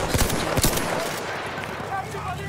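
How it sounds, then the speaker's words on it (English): Machine gun fire in the video game Battlefield 1: sharp rapid bursts of shots early on, then fading into a rumbling battlefield din as a voice talks over it. "Machine gun, look like!"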